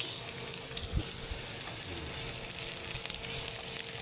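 Squid adobo sizzles steadily in a hot pan while being stirred, continuous close frying hiss with occasional clacks of the utensil, no talking.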